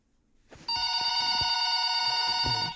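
A telephone rings loud and steady inside a horror video game, its bright electronic trill starting abruptly and holding continuously over faint background thumps.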